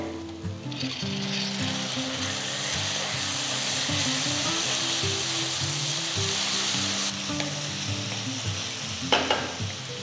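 Steady, loud sizzling of chopped tomato frying in a hot pan, with scraping stirs now and then and a faint low rumble behind it.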